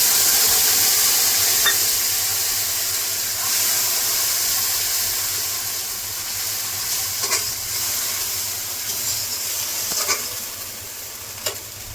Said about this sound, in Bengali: মশলাটা কিছুক্ষণ ভেজে নেব।